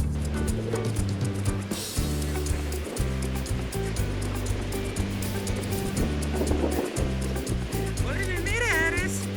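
Baltic Sea waves wash against the shore in a continuous, broad rush of surf. People talk over the waves almost the whole time.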